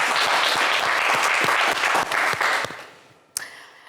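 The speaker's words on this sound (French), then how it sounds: "Allez, on va applaudir Ibrahim bien fort." A studio audience at the Coffre Magic game show applauds a contestant with loud, dense clapping that thins and fades, ending in a brief sharp sound and quiet.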